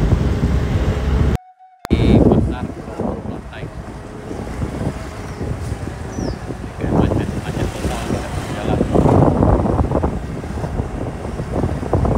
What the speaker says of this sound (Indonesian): Masih macet parah.